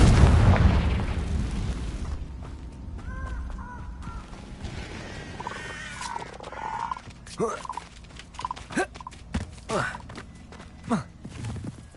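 A Confringo fire spell explosion in Hogwarts Legacy: a loud, booming burst right at the start that rolls off over a couple of seconds, followed by scattered creature cries and game sounds.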